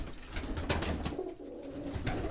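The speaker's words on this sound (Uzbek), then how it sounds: "Valyerdagi kaptarlari mana" White pigeons in an aviary coo close by, with soft repeated throaty calls overlapping in a low murmur, with no talk.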